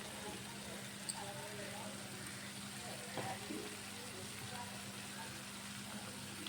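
Masala fries in a pan for raw mango fish curry, giving a faint, steady sizzle with a low background hum and an occasional clink.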